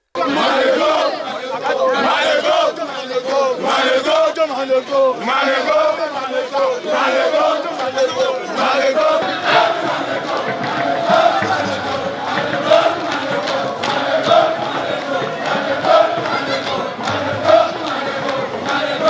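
A crowd at the Ofifofu Festival in Igarra, Akoko Edo, makes loud, continuous massed shouting and chanting with ululating cries, the voices of many people overlapping throughout.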